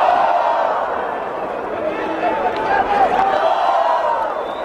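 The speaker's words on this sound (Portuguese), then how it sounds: "Mas aí detalhe da torcida chilena." Chilean football fans in a stadium during a Copa América 2004 match against Brazil, a steady distant roar of crowd chanting and cheering under a commentator's voice.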